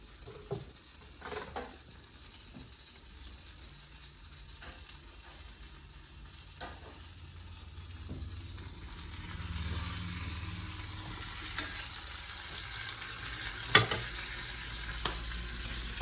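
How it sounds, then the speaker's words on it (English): Steak sizzling in a skillet with butter, quiet at first with a few clinks and scrapes, then the hiss swells louder and steadier as butter hits the hot pan, close up. "So we're gonna baste it. Get some butter in the skillet real quick."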